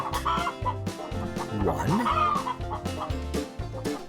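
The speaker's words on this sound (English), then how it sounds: "It's chickens. There's lots of chickens." Farm chickens cluck and squawk in a busy, overlapping chorus, one call rising in a short warble, over a steady low musical backing, while a voice begins counting.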